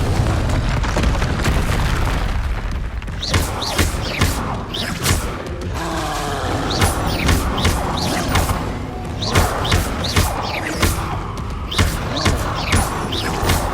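Repeated Confringo blasting-spell explosions from Hogwarts Legacy on PS5 land as loud booms and crashing thuds in quick irregular bursts over a steady rumbling combat din, with no talking.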